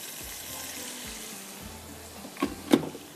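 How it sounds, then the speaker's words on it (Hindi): Water pours into a pot for Hyderabadi koftas, a low, steady splashing stream with soft sizzling underneath and a couple of sharper clinks near the end, with no talking. "इसके अंदर जाएगा ये पानी"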